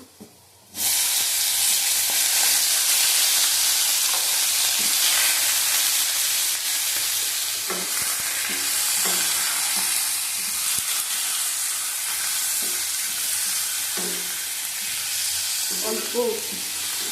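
Onion, chilli and tomato hit hot oil for a katla fish curry, bursting into a loud continuous sizzle after a brief quiet start, with occasional stirring clatter and faint talk underneath.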